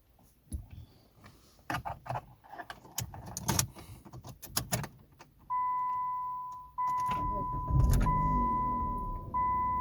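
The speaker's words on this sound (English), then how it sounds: "push the brake pedal and start your vehicle using your working key" A 2011-2014 Chrysler 200 being started with a key: clicks and key rattles, then the engine turns over and settles into a steady idle with a chime beeping repeatedly above it, fairly close and loud, no talking.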